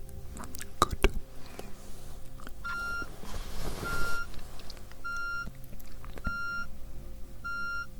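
Electronic test tones in a hearing-test role-play: a few short, evenly pitched beeps spaced roughly a second apart over a soft, hissy close-up background, with no talking.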